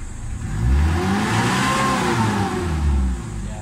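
A Mitsubishi Adventure engine, just after its RPM gauge was repaired, revs up in loud swells, rising and falling twice and then settling to a steady idle.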